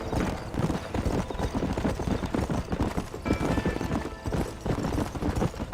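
Galloping horse hooves in the western video game Red Dead Redemption, a dense, continuous rapid clip-clop rhythm, close and loud throughout, with no speech.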